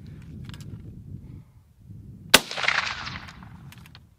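A single sharp, loud rifle shot from a Finnish M39 Mosin Nagant cracks out midway, its report ringing and decaying over the next second against low background rumble.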